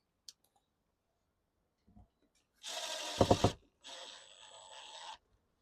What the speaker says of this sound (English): Chuck that next screw in.